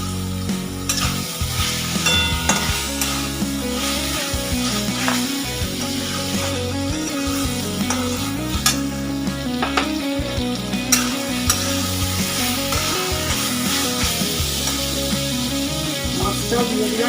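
Potato and pointed gourd pieces fry and get stirred in a hot spice paste for prawn curry, with a steady sizzle and repeated scraping stirs running throughout, close and loud.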